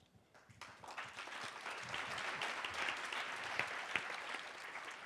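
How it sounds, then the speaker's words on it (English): An audience applauds steadily after a recited poem about Leigh Hunt, the clapping building from a sparse start into a dense, sustained ovation with a few sharper claps standing out near the end. "Thank you for applauding Leigh Hunt"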